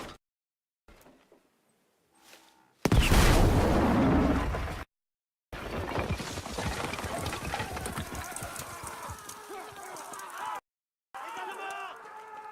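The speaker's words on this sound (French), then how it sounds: "On va utiliser ce canon!" Loud booming cannon blasts in Battlefield V burst out between pauses, followed by sustained rumbling and clattering noise, with shouting voices mixed in.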